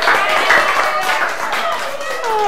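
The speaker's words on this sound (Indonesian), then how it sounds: "Oke, tepuk tangan buat kita semua" A group claps hands together during a teaching practice session, a dense, steady patter of many hands with voices mixed in.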